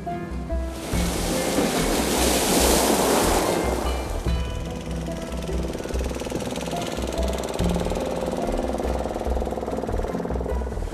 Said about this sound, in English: And the sea. This is the Mediterranean.